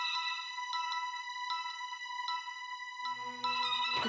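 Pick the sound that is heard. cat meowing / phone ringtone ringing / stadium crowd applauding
phone ringtone ringing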